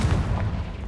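A single short, heavy blast from the Confringo fire spell in Hogwarts Legacy, a deep rumbling boom that fills the brief moment.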